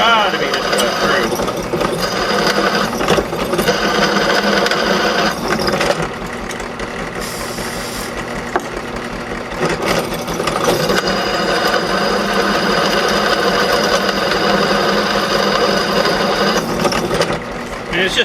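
A cheaply made drill press runs and bores through a workpiece, a loud, near whirring grind with gear rattle that pauses briefly midway before resuming.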